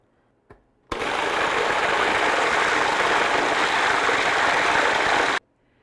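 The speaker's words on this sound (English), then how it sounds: "all you're going to do is process it in a food processor" A food processor purees cooked pumpkin with a steady, loud motor whir. It starts abruptly after a faint click, runs evenly for about four and a half seconds, then cuts off cleanly.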